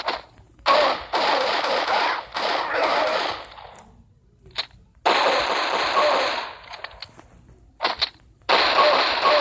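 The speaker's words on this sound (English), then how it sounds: "I want to see how much kills I could get with the revolver and whatever this gun is." A revolver and another gun fire at zombies in a video game, with bursts of rapid shots broken by short silences, loud and close.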